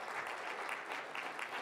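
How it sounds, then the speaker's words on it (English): A church congregation at a Christmas Eve service claps in thanks, an even, fairly quiet patter of many hands sustained throughout. "we may clap as we say thank you"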